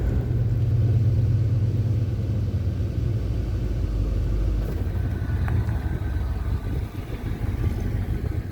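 A Chevrolet Suburban 4x4 camper rolls down a graded dirt road in Idaho, its engine a steady low rumble with road noise and faint rattles throughout, heard from inside the vehicle without talking.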